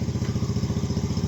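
A 50cc IceBear Maddog engine idles at low RPM, its rapid regular putter loud and close, with light mechanical clatter and no voices.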